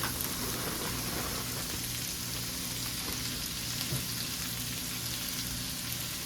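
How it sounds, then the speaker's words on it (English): Rutabaga and cabbage frying in bacon grease, a steady, dense sizzle that fills the whole stretch without a break, close and even, with no talking over it. "I'm gonna stir it around so it gets all nice and coated with that bacon grease"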